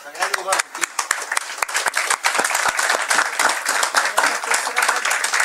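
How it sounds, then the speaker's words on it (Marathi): An audience at a Marathi song concert applauds for Rane Kaka with dense, steady clapping that carries on throughout. "या सर्वांसाठी आपण एकदा राणे काकासाठी टाळ्या वाजूया"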